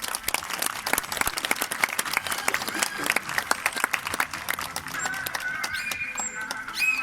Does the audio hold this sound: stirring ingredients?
no